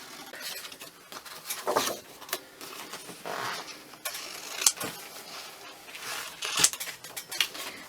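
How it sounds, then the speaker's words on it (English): Scissors cut out paper labels in a quiet room, a run of short snips and paper rustles that come in bursts of a few seconds each, close but soft, with no talking. "I'm just going to cut a couple of labels out."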